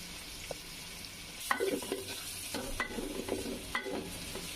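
Salted onions fry in a pan for Bengali bhuna khichuri with a soft sizzle, while a spoon scrapes and stirs in irregular close bursts.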